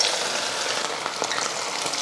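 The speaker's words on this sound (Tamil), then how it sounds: "எண்ணெய் காஞ்சிருச்சு. பொரிச்சுக்கலாம். ஒவ்வொரு சிக்கனாக எடுத்து போடுங்க." Chicken pieces for pakoda fry in hot oil with a loud, bright, continuous sizzle that crackles steadily up close, without any talking.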